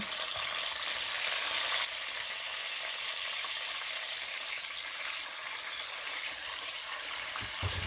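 Anchovies and garlic frying in olive oil in a pan for a puttanesca sauce, a continuous close sizzle that settles slightly after a couple of seconds, with no talking.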